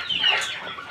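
Chickens cluck in one short, close, moderately loud burst, with no talk.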